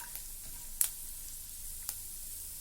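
Fenugreek seeds, cumin and other spices frying in a pan, a faint steady sizzle with a couple of sharp little pops or spoon clicks, quiet and alone.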